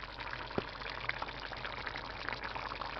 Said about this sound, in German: So soll sie blubbern.